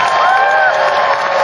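Fans cheer and applaud at a farewell event for Ryu Hyun-jin, a dense, steady crowd roar with clapping blended in, loud and continuous throughout with a whistle-like tone briefly rising over it.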